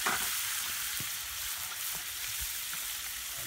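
Capers and garlic sizzle and crackle in a pan over a campfire, a steady close hiss with occasional stirring clicks.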